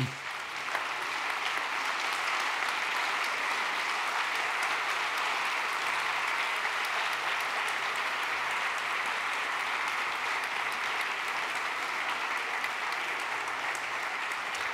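A lecture audience gives a steady, even round of applause, many hands clapping together at moderate volume with no pauses and no voices over it.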